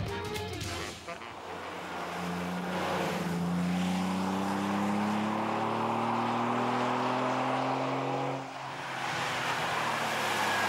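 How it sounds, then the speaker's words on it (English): An Alfa Romeo Spider drives a mountain road in poor weather, its engine note rising and falling steadily through the gears under constant road and wind noise. "Despite the poor weather conditions, the Spider has excellent road handling."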